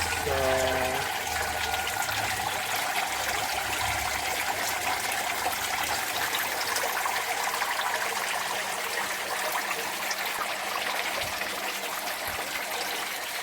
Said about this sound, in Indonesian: untuk sirkulasi airnya, air yang sudah tersaring bersih itu akan mengalir di pot-pot aquaponik